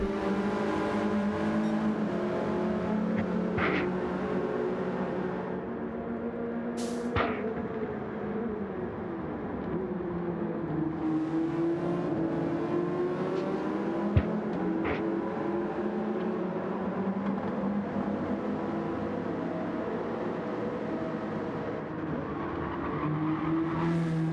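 Gr. 4 race cars lap Daytona in a racing video game, a steady loud engine drone at top speed with shifting pitch sweeps and a few sharp clicks, no voices over it.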